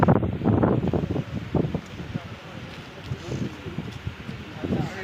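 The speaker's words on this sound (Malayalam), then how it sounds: "ഓ എന്തൊരു കാറ്റ്." Strong mountain wind at Meesapulimala, blowing in loud, gusty rushes that buffet the microphone and stay close and continuous, easing slightly partway through.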